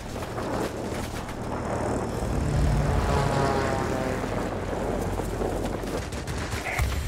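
Engine roar of a Soviet jet-powered warplane in the World of Warplanes combat game, a loud continuous drone that swells in the middle of the clip, with faint gunfire crackling underneath.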